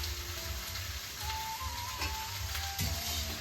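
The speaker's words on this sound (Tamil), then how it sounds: "காய் வந்து நல்லா வதங்கினோடனே பருப்பை தூக்கி ஊற்றிடலாம்" Vegetables sautéing in a pan in a village kitchen give a steady, close sizzle with soft stirring scrapes, running continuously with no talk.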